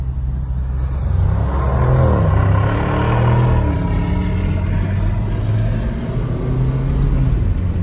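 A Chevrolet Corvette C8 accelerates hard at full throttle. A loud, continuous engine roar climbs steadily in pitch, then eases off and climbs again, close to the listener, with no talking over it.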